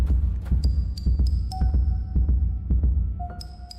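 A heartbeat sound effect from the video game Fell & Sell thumps in a steady, loud double-beat rhythm, with higher electronic tones overlaid on parts of it.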